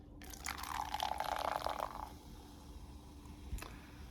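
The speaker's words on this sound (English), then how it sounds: "pour it into the glass" Ryse Fuel Rainbow Sherbet energy drink poured into a glass, a steady liquid stream splashing for about two seconds before trailing off into quiet, with a small knock near the end.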